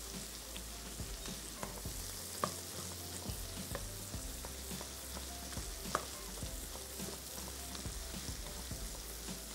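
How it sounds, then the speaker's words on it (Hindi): Onions fry and sizzle in oil in a pan for a stew while being stirred, a continuous crackling hiss with frequent scraping stirs, close and steady, no voices. "खूब अच्छी तरीके से आप चलाएंगे तो प्याज टूटना शुरू हो जाएगी।"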